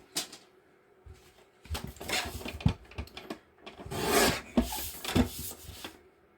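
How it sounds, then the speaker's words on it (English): A paper trimmer squares up a sheet of paper in a card-making session, giving several scraping, rasping slides and rubs with small clicks, moderately close and quiet, with no talking. "I will use the trimmer to square that up, just to save myself some aggravation."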